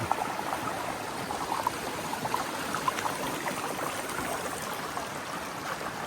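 Water runs steadily over a stream crossing on the Kennebunk River, a continuous broadband rush with small trickling splashes on top, close and moderately loud with no talking.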